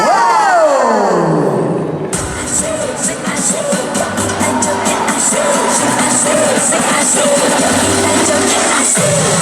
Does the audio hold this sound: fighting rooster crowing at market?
no